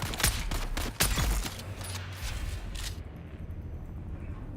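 Video game gunfire in a bandit camp ambush: several sharp, loud bursts in quick succession over the first second and a half, then a steady rumbling tail as the shooting fades.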